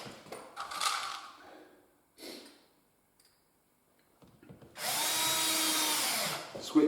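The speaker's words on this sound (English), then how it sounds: "Switch to the drill driver here rather than the impact wrench" A drill driver driving screws whirs close up in brief bursts, falls quiet, then runs steadily for about two seconds with a high, buzzing motor whine.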